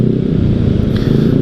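A Yamaha Lexi scooter engine with a stop-start system idles close by, a loud, steady low putter with a rapid even pulse throughout.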